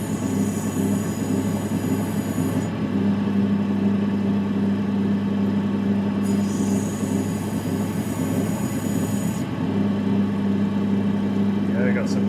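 A lapidary 600 grit wheel grinds opal with a steady, loud motor hum and whir that holds throughout, with faint high whine shifting as the stone is pressed on and lifted.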